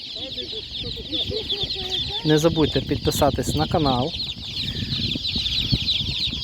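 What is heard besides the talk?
chicks clucking at an animal market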